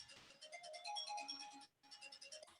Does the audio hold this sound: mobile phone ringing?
yes